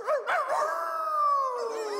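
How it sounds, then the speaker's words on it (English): A stray dog howling, mistaken for a wolf, gives a loud, sustained, wavering howl rising briefly and then holding a long drawn-out tone. "It's probably a stray dog."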